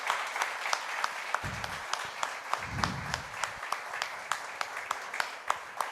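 A church congregation applauding during a Portuguese-language service, with a moderate, even patter of many hands and some sharper individual claps, with brief murmured voices underneath.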